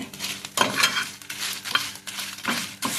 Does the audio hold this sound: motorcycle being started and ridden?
no